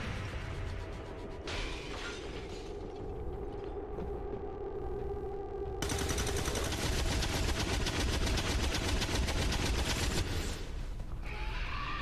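Soldiers firing on an enemy in the video game XCOM 2: sustained rapid machine-gun fire with shattering impacts, growing louder and denser midway before cutting off, with no talk over it.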